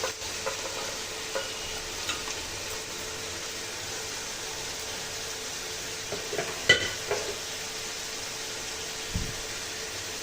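Boiled chicken is stirred into a masala of cooked tomatoes in a pot for chicken biryani, giving a soft, continuous sizzle with a few scraping stirs and light knocks over a steady fan-like hiss.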